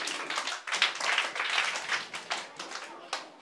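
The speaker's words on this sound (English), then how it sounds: "Let's clap for them." Children at a library reading challenge in Keta clap for contestants, producing brisk, uneven bursts of close hand clapping with some voices mixed in underneath.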